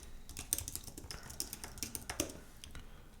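Typing on a computer keyboard while entering code, a quick run of crisp, uneven key clicks close by, recorded alone at a low level.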